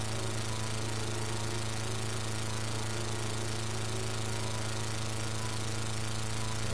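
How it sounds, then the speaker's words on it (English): A biplane engine in the flight game Red Baron drones loudly and steadily with a low, rough hum as its oil pressure drops, running alone without talk for the whole stretch. "Oil pressure is dropping. Right, so in a moment my engine is going to stall."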